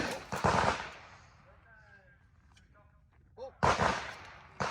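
Bursts of rapid gunfire at an outdoor shooting range, one near the start and another near the end, loud and close, with quieter chatter and faint sounds in between.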